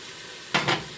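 Homemade Chinese fried rice with oyster sauce sizzling in a pan, a low frying hiss broken by two quick scraping stir strokes near the end, close up, no talking.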